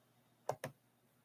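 Two quick, faint computer mouse clicks in close succession in a quiet room.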